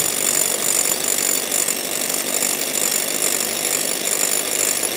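An electric beater whips egg whites with sugar in a bowl, giving a loud, continuous, gritty motor whir that holds steady throughout without pause, with no voices.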